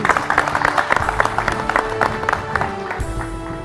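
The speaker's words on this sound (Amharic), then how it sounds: "ከመጥራቴ በፊት ጭብጨባ ፈልጋለሁ።" An audience at a televised Ethiopian singing competition claps steadily, a dense run of hand claps that carries on throughout, with faint background music underneath.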